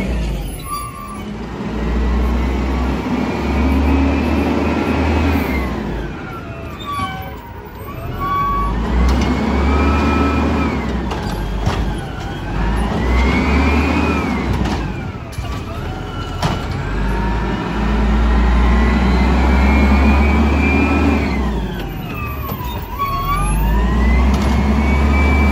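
Burrtec Volvo WX refuse truck, a garbage collection truck, working nearby with a loud diesel engine rumble that rises and falls in repeated cycles, along with hydraulic whines and air brake hisses.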